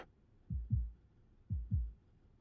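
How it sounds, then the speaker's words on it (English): Game heartbeat effect: two deep, muffled lub-dub thumps about a second apart, close and clean against near silence. "Your Highness, can you hear my heartbeat?"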